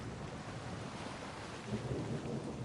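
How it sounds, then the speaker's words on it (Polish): Steady, dense rain hiss in the video game Kroniki Myrtany Archolos, with a low rumble of thunder swelling slightly midway, heard alone without any talking. "jeszcze deszcz pada oczywiście"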